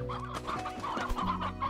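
Briar hens in the video game Slime Rancher cluck repeatedly in a steady, busy chorus, fairly close and moderately loud over a constant low hum of background game ambience, with no one speaking.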